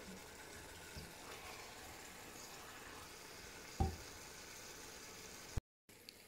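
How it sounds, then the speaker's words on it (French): Meat sears in a pan for couscous with a faint, steady sizzle, broken by a single sharp clatter partway through and a brief dropout near the end. "je fais revenir pendant quelques minutes ma viande. On la saisit en fait, hein, des deux côtés."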